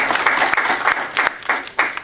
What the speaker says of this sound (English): can we give her a hand clap for a great presentation?